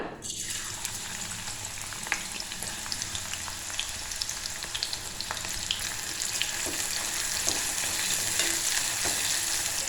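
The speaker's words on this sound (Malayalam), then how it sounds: "എണ്ണ ചൂടായിട്ടുണ്ട്. നമുക്കിതിലേക്ക് സവാള ഇട്ട് കൊടുക്കാം." Sliced onions (savala) hiss in hot oil for Kerala-style fried rice, a steady, close, dense sizzle with faint crackles and occasional stirring scrapes throughout.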